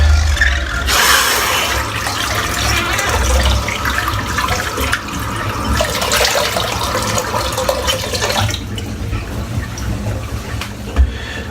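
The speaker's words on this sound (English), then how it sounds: "just empty this sink out" A kitchen sink empties, its water rushing and gurgling down the drain in a steady, fairly loud stream for about eight seconds before it dies away to a faint trickle. Nobody speaks.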